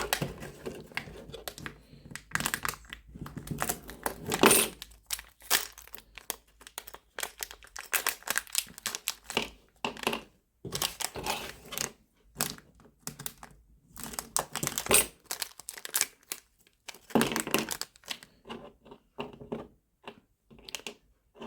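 Packaged stepper drivers for a K40 laser cutter being unwrapped, giving close, irregular bursts of crinkling plastic and crisp clicks that come and go across the whole stretch, with no talking.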